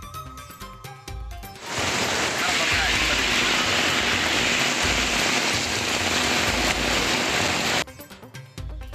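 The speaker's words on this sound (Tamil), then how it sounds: "தமிழ்நாட்டின் பல்வேறு இடங்களில் கொட்டி தீர்த்த மழை" Heavy rain pours down across parts of Tamil Nadu in a loud, steady wash of hiss that holds for about six seconds. Busier street-like noise comes before and after the downpour.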